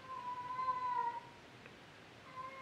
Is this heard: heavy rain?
no